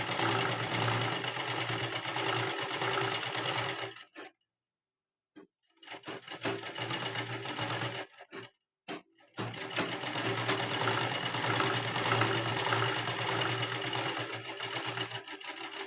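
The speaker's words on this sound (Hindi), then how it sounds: "और यही से हमें डबल सिलाई लगा लेंगे।" A sewing machine runs in steady, close, continuous stitching on a princess-cut blouse without lining, laying a double row of stitches. It stops for a moment, restarts, pauses twice more briefly, then hums on without a break.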